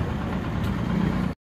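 A motorbike engine idles close by in a steady, even mid-pitched rumble that cuts off abruptly near the end.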